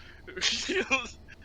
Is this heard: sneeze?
yes